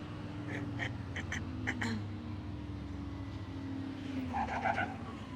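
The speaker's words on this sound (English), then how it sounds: "There's a bus coming, there's a bus coming." A bus drives along a hill road in Lanzarote, its engine a steady, loud low drone with a slowly shifting pitch as it passes close by, with scattered brief higher clicks and rattles over the rumble and no voices.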